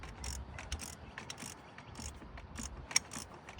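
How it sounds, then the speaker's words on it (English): An oil filter is hand-tightened onto a car engine, giving a quiet series of small ratcheting clicks and scrapes in an even rhythm, close but faint. "So we're just gonna tighten this down."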